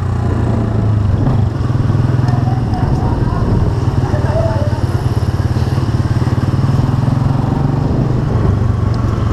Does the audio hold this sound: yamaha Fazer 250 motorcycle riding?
yes